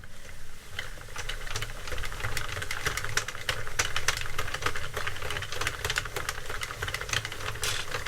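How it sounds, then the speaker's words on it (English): A Sentro 48 knitting machine is cranked by hand in a continuous, dense clatter of rapid clicks over a low mechanical rumble, steady and close, with no talking. "I can get to my handle then, and I'm just going to start cranking"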